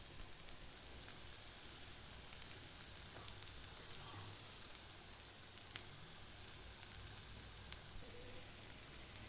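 Potatoes frying in a pan for aloo fry, a steady faint crackling sizzle with small scattered pops, no talking.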